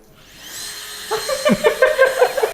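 A Nitecore Blower Baby mini electric air blower spins up with a rising whine, then runs with a buzzy, fluttering hum that pulses in short bursts, close and fairly loud.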